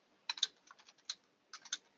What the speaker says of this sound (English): So if I click here and I start typing a query